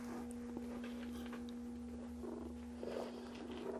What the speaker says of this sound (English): you don't care, you purr